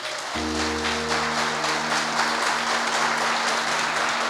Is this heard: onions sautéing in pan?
no